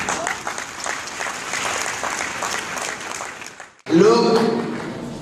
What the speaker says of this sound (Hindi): मैं आप सबको वेलकम करना चाहूंगा जोरदार तालियों के बीच में।